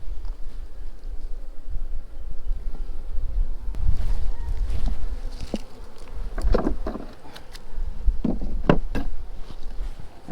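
Honey bees hum and buzz steadily over a hive frame holding larvae, close by, with scattered wooden knocks and taps from the frame being handled.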